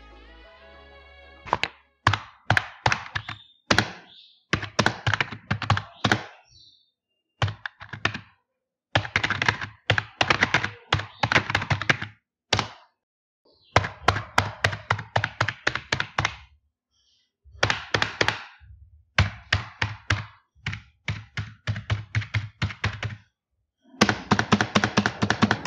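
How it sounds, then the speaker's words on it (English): Bursts of quick typing on a non-mechanical computer keyboard, crisp clacking keys in rapid runs separated by short pauses, close and clear with no talking. "here is how the keys sounds like while typing"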